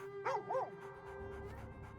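A dog in the Baldur's Gate III video game gives two quick yipping barks, then a softer whimpering whine trails on under a low steady background hum.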